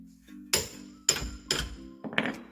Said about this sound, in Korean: 너트를 잡고 망치로 타격해 풀어줍니다.